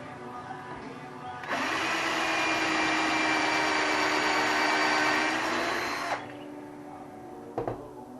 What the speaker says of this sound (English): So I can now drill this.